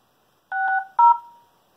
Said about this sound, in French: Je vais vous faire écouter le son du téléphone qui est pas mal aussi.